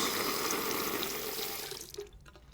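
Water runs steadily from a tap in a building where the supply was recently shut off, leaving air in the line, with a close, hissing stream that sputters and stops near the end.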